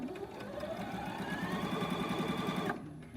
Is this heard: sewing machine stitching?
yes